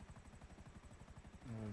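Helicopter in the GTA V video game about to go down, its rotor thumping in a fast, steady rhythm at moderate volume, with a tonal sound cutting in at the very end.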